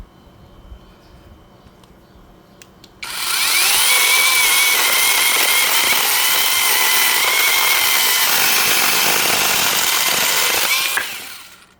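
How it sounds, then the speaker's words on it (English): A Reindeer Tools Dasher 8-inch mini cordless chainsaw cuts through a hand-held piece of hardwood firewood, a loud steady whining buzz that starts abruptly after a quiet lead-in and runs unbroken for about eight seconds before cutting off. "here's a piece of firewood. I'm just gonna try to hold on to it while I cut through"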